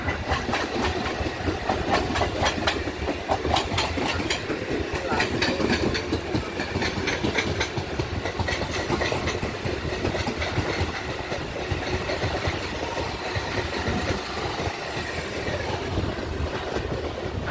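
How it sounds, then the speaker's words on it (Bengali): A pink-face EMU local train on the Howrah–Bandel line passes close by with a loud, continuous rumble and rapid rhythmic clickety-clack of wheels over rail joints. "সামনে আসছে pink face EMU local Howrah ব্যান্ডের লোকাল"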